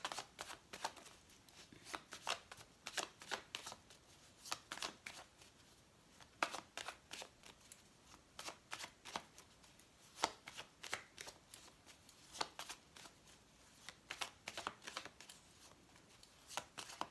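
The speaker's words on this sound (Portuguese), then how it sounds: "eu vou pegar só três cartas do Vladimir" Oracle or tarot cards are shuffled continuously for a long stretch, soft repeated riffles and flicking slaps in a steady uneven rhythm, fairly quiet and close, with no talking.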